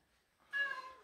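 A shorthaired cat being groomed lets out a single short meow that starts after a quiet moment, close and moderately soft, with no talking.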